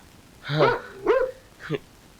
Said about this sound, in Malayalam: വല്ലാതെ കുരയ്ക്കുന്നുണ്ടല്ലോ